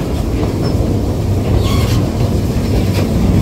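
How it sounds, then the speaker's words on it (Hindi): Train rolling over tracks in Australia while switching between tracks, a steady loud rumble with faint clickety-clack of wheels over rail joints and a brief squeal, heard from on board with no talk. "ये जब ट्रेन ट्रैक चेंज करती है ना, इसका अपना मज़ा है।"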